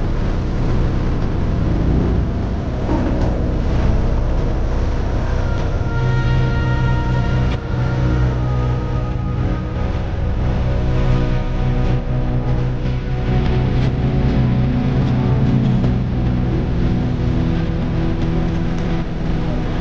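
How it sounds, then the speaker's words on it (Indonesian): A steady, loud motor drone with a low rumbling hum from a wooden boat crossing a river, running continuously, with faint wind or water noise throughout. "kita juga akan menyeberangi sungai dengan menggunakan kapal kayu"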